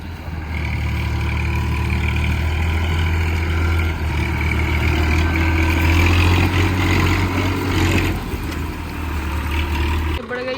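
A 9000 tractor engine runs steadily nearby during wheat harvest, a loud low throbbing drone that holds for several seconds before cutting off near the end.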